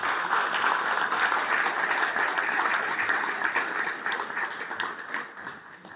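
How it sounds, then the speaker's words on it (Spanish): Sustained audience applause at a book presentation honouring a doctor, a dense, steady wash of many hands clapping that begins to thin and fade toward the end. "Fuertes aplausos para el doctor."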